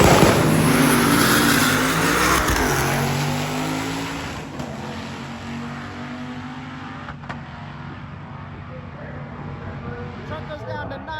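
Stick shift Mustang with a slipper clutch drag racing, its engine roaring loud and close at launch, then fading as the car pulls away down the strip, with people talking over it.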